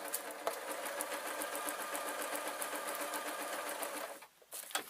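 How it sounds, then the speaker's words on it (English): A sewing machine stitches a buttonhole into velvet cloak fabric, its needle running in a fast, steady mechanical patter up close for about four seconds before it stops and a couple of faint clicks follow. "And I will now, as I've got it set on buttonhole, go forward."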